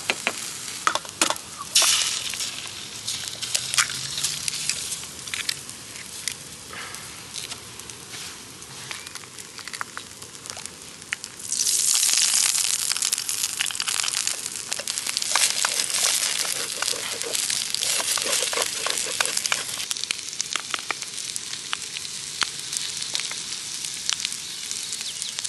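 Foraged winter mushrooms fry in butter in a pan, a steady broadband sizzle with crackles and stirring scrapes, growing louder and denser about halfway through as the pan heats up.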